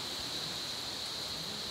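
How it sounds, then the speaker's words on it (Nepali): Water runs steadily from the rocks behind a Mahadev temple in Jiri, Nepal, a soft, even rushing hiss that holds unbroken throughout at low volume. "पछाडि ढुङ्गाबाट यहाँ पानी आइरहेको छ"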